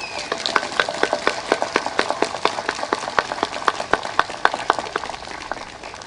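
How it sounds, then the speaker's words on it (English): Outdoor crowd at a Memorial Day ceremony applauding the Keystone Young Marines, dense steady clapping with sharp individual claps standing out, moderately close and sustained throughout. "let's give them another round of applause"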